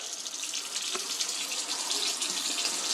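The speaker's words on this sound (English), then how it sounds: "and we run some water through" Cold water runs steadily through a Berkey filter primer, a soft continuous hiss and trickle without pauses or speech.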